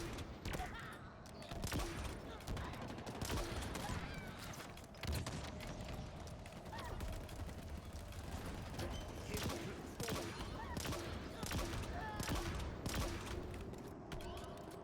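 In Halo Infinite, gunfire from a weapon that behaves like a rocket launcher: repeated sharp shots and bursts spread across the stretch among busy combat clatter, quiet overall with a steady pace.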